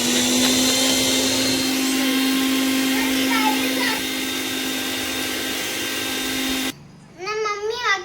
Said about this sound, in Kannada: ಈಗ ಗೈಸ್ ನೋಡ್ರಿ, ನಾನು ಮಿಕ್ಸಿ ಮಾಡಬೇಕು